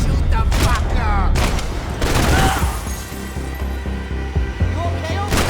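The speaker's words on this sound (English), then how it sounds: "Just shoot the fucker!" Bursts of gunfire in the Max Payne 3 video game come as loud, rapid shots and booms mixed with music and shouted voices, dense and close throughout.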